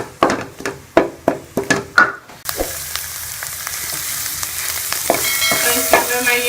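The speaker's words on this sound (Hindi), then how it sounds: "ये लहसुन अदरक का पेस्ट भी डाल दिया और इसको भी हम इसमें 1 से 2 सेकंड के लिए अच्छी तरह से भून लेंगे।" Ginger garlic paste frying in a pan for white beef karahi: a run of sharp spoon taps and knocks on the pan first, then a loud, steady sizzle with stirring scrapes.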